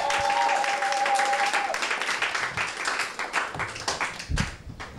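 Wedding guests clap and cheer, a busy spread of hands with a brief sustained tone near the start, the clapping thinning into scattered, uneven claps toward the end.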